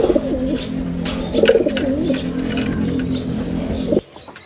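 Racing pigeons coo in low, throaty, repeated bursts close by while picking up nesting material, with soft wing flutters and scuffs before the sound cuts off abruptly near the end.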